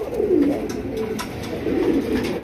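A pair of large Bombay pigeons coo nearby, two soft throaty rolling coos separated by a short pause, with faint background noise.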